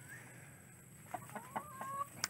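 Hens cluck in a chicken pen, a few short, faint calls scattered through the second half over a quiet background with no talking.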